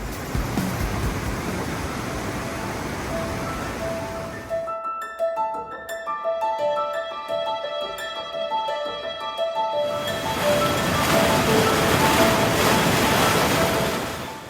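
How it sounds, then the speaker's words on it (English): A mountain creek in Great Smoky Mountains National Park pours downhill over rocks in a steady, close broadband rush, broken by a stretch of music in the middle before the water returns loud and even. "The streams of Great Smoky Mountains National Park are more than just water flowing downhill over rocks."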